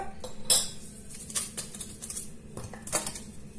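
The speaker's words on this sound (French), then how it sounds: "Je mélange bien ma levure." A metal spoon stirring yeast and sugar in a bowl while making Turkish bread, giving a few light clinks and scrapes against the dish at an uneven rhythm, close and moderately quiet.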